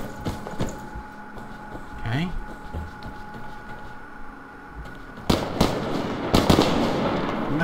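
Grenade blasts in the video game Survarium: sharp broadband bursts, a couple early and louder ones near the end, over game ambience with a voice talking.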